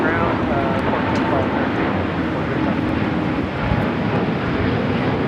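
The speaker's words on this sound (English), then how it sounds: "This is SAS 932 taking off to Copenhagen on the A350-900." An SAS Airbus A350-900 bound for Copenhagen takes off at LAX. Its jet engines give a loud, steady, broadband roar that fills the whole stretch without fading, heard over a live spotting stream.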